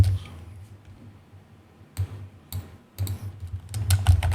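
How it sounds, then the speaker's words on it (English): Keys tapped on a computer keyboard in short uneven bursts, with a pause early on and then quicker, louder clusters of clicks toward the end, close and alone. "Opening a cmd, you just press Windows key and R and you type cmd."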